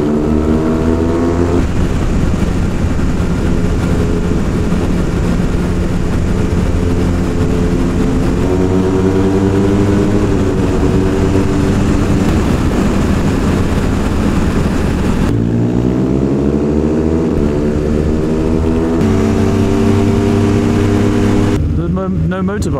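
A BMW R1200GS motorbike engine drones loudly and steadily at top speed, its pitch shifting with gear changes, while a voice talks over it through an intercom.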